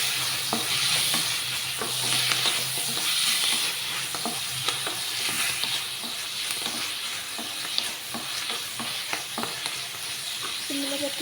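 Curry leaves frying in a pan, a busy continuous sizzle and hiss with frequent scraping stirs and small clatters throughout, fairly close and loud.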